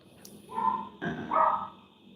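A puppy barks in two short, bright bursts about half a second apart, close by and fairly loud, with no talking.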